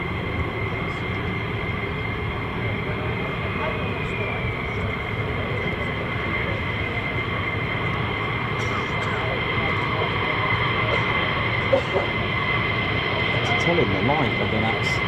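F-15 or F-35 fighter jets taxi at an RAF air base, a continuous loud jet engine roar and whine holding steady throughout, with people talking faintly beneath it.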